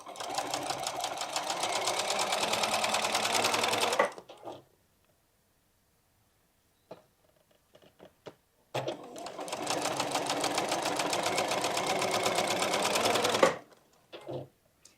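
A sewing machine stitches quilt triangles together in two long steady runs of rapid needle chatter, each about four seconds, separated by a quiet gap with a few faint handling clicks.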